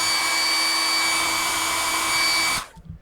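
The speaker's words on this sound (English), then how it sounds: "You can use your hair dryer to heat up that adhesive." Hair dryer heating the adhesive on a Samsung Galaxy Note 4's front LCD frame during disassembly, a loud steady whirring blow with a whine that cuts off abruptly near the end.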